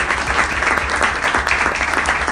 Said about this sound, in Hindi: हमारे इसी देश के चंद्रयान 3 के लिए तालियां बजनी चाहिए